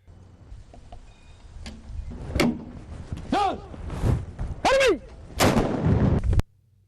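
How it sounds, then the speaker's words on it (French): Cannon blasts from a 21-gun salute by national army troops boom at intervals of about a second, some sharp and close, others duller, over a low rumbling background. "21 coups de canon tirés par des éléments de l'armée nationale en l'honneur du président de la République"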